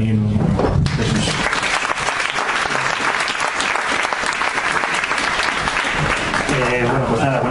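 Audience at a pub talk on climate change in Madrid applauds steadily for several seconds, a dense sustained clapping from a room full of people.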